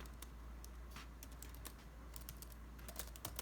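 Fingers type quickly on a computer keyboard, a steady run of close, quiet key clicks with no voices.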